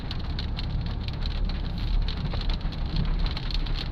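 Steady rain falls in Vientiane, making a dense, continuous hiss of drops striking surfaces. It stays even and moderately loud throughout, with no voices.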